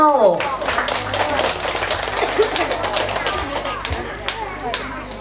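An audience at a children's graduation show at a small childcare centre claps in a dense, steady patter, with voices mixed in and a low hum beneath.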